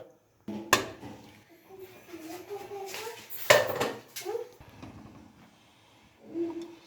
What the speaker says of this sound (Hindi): और अब कुकर को हम बंद करेंगे।